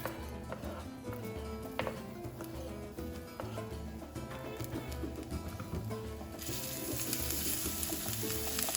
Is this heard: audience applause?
no